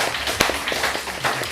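A scattered handful of people clapping at a school board meeting, the irregular claps close and uneven over a brief moment, with no speech.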